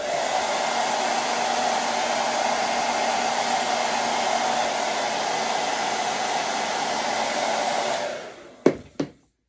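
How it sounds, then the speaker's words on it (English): A hair dryer drying chalk paint on a craft piece blows with a loud, steady whir for about eight seconds, then spins down and is followed by two sharp knocks. "I'm going to dry it real quick"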